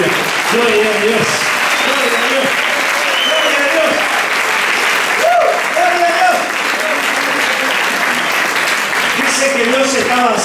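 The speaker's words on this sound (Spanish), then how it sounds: "Denle un aplauso a Jesucristo" A church congregation at a Sunday service breaks into loud, sustained applause lasting the whole stretch, with voices calling out and chanting on top of the clapping.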